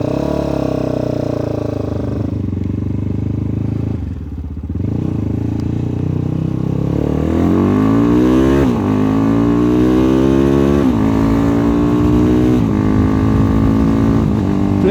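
Megelli 250r motorcycle on a ride, its engine close and loud, revving up through rising gear pulls with shifts between, steady and without talk.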